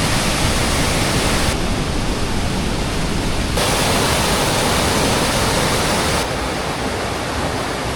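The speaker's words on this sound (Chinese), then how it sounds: "有一個大的瀑布啊" A large waterfall along the Tour du Mont Blanc trail roars as a loud, dense, unbroken rush of water that fills the whole stretch without any pause or voices.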